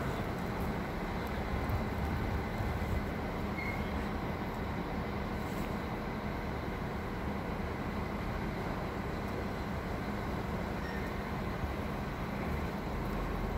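A train rolls through Graz central station in Austria, a steady, loud broadband rumble of wheels and cars that holds evenly from start to finish with no voices.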